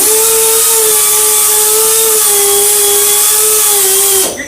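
A handheld power buffer works a shell with a steady, high-pitched whining drone held at constant speed, loud and close, then winding down abruptly at the end.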